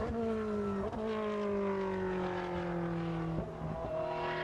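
A Ford GT race car in a GT1 qualifying session on a circuit in Slovakia, taking a right-hand corner, its engine droning steadily and dipping in pitch twice with gear changes, heard at a moderate distance.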